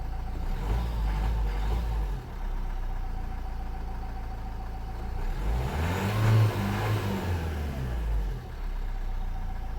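A Nissan Qashqai 1.5 dCi diesel, suffering from no power and no boost, idles steadily after starting, a continuous low engine drone with a rise in revs midway before settling back to idle, heard close with no talking.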